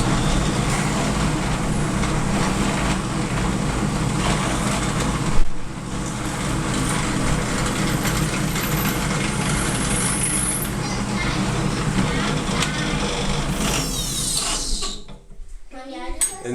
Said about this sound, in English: With the drill bit in the hole, I start it, go down about 1/4 of an inch